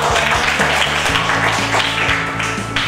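Pupils in a primary school classroom clap together, a dense, steady patter of applause lasting the whole stretch, with a low hum running underneath.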